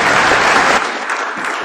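Congregation in a church service clapping for God, a loud, dense burst of applause that fills the moment and eases slightly toward the end.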